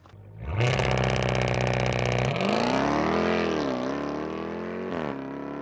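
A Dodge Durango Hellcat's supercharged V8 with the mid muffler removed barks to life and rumbles loudly up close, its exhaust revving up and settling into a deep, throbbing idle.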